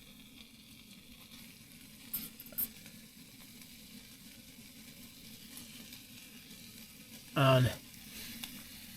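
Welsh lamb steaks with mint and rosemary sizzle softly and steadily in a pan, with a voice speaking briefly and a couple of short clatters.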